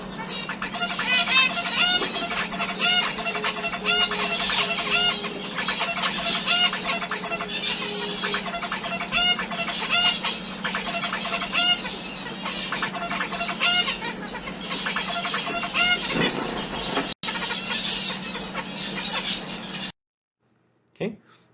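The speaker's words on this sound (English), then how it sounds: "this video of a male zebra finch attempting to impress a female finch" A male zebra finch sings a long, busy song of rapid chirps and buzzy notes, repeated in close bursts to court a female, loud and continuous before cutting off near the end.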